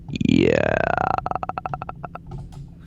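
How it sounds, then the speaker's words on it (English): A small burp goes into a microphone, a gurgling belch that breaks into a rapid, fading series of croaky pulses, close and dry, with a brief spoken word nearby. "that sounds like you just burped a little bit in the microphone."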